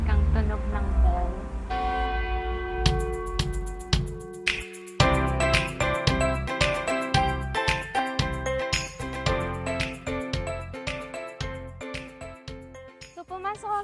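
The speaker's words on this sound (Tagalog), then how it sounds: "may maririnig kang tunog ng bell." Bells ring in a tinkling, chiming pattern that grows busier partway through, with repeated bright strikes over a steady musical backdrop.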